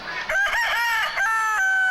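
An ornamental rooster crows once, close and loud, a drawn-out cock-a-doodle-doo with a rising start, wavering middle and a long sustained final note.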